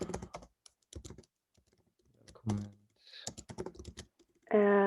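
Quick clattering keystrokes on a computer keyboard while typing code, in short bursts between bits of speech, close and fairly crisp.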